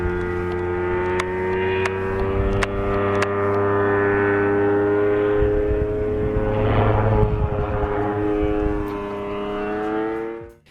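An ultralight airplane's 40 to 50 horsepower engine drones steadily with a strong harmonic hum, fairly loud and constant, fading out abruptly at the end.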